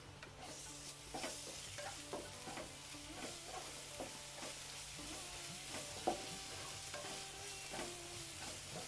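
Sliced onions sizzle and fry in a pan with ginger garlic paste for a paneer masala, with a steady crackle and scattered stirring scrapes and clinks throughout, close and moderately loud, with no talking.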